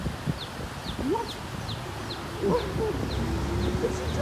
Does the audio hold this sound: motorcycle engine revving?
no